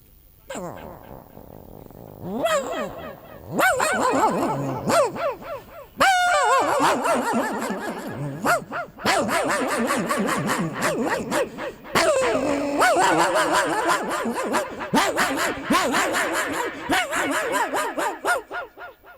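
A man vocally imitates a small dog, producing a long run of yappy barks, yips and whimpers at close range, loud and expressive, with short pauses between bursts.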